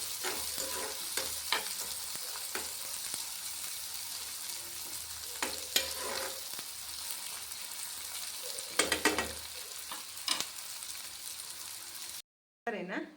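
A steady hiss of onions frying in a pan for a banana-stem and horse-gram curry, with occasional scraping and stirring clicks, close and continuous, cutting off briefly near the end.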